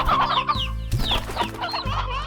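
Hens clucking in the video game Slime Rancher, a flock of several birds chattering in overlapping bursts over repeating low game music, close and moderately loud.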